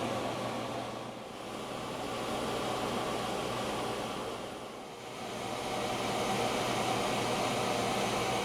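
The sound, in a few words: vacuum pump evacuating Honda A/C system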